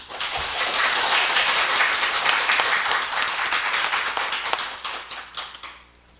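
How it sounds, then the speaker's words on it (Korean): A church congregation applauds to welcome a preacher to the front, a dense and continuous clapping that holds steady for several seconds and then tapers off toward the end. "우리 원종님 전도사님 나오실 때 우리 힘차게 박수로 환영해 드리겠습니다"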